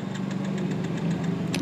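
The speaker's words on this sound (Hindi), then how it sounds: "देखो सेल्व मार रहा हूँ" Motorcycle electric self-starter on a bike with a current fault cranking steadily and repeatedly without the engine catching, a continuous mechanical churn with faint rhythmic ticks, close and fairly loud.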